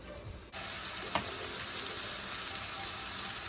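Chicken for a creamy lemon dish frying in a pan on raised heat, giving a steady, even sizzle that jumps up in loudness early and stays constant, with one brief clink.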